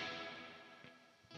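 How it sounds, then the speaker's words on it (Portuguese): Electric guitar through a Marshall JCM800 simulation in Amplitube 5 with a 4x12 Vintage 30 cabinet and added reverb: a fading chord tail washes out, then a sharp new strum cuts in loudly at the end. "Vamos adicionar um pouquinho de reverb."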